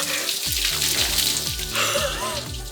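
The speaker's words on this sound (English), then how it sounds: "That was so much water" A large splash of water lands on a person in a dousing stunt, sloshing and spattering loudly for a couple of seconds, then dripping and trickling away.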